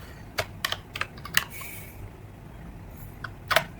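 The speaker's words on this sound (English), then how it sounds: "but we type the command ping" Keys clack on a computer keyboard as a ping command is typed, a few quick close taps in short bursts separated by brief pauses against a quiet room hum.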